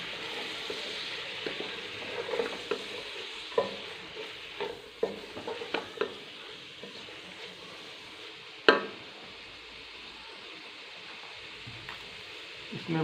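Vegetable rice is stirred and mixed in a pot, with soft scraping and intermittent clinks of a spoon against the pot over a low, steady background, one sharper knock standing out near the end.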